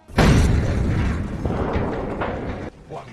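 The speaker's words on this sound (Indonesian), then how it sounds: "setelah mobil meledak" Car exploding in a film, a loud sudden boom that bursts in at once and then rumbles and crackles as a dense wash for about two seconds before cutting off.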